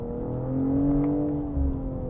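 A 2025 BMW M440i accelerating hard with a downshift, its engine note rising in a steady, loud, smooth drone heard from inside the car, with no talking.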